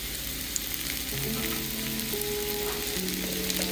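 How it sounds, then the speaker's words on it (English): Portobello mushrooms sautéing in grapeseed oil, a dense continuous sizzle close up with low steady hum beneath, no voices over it. "now for the portobello mushrooms, just in some grapeseed oil, I'm going to saute them"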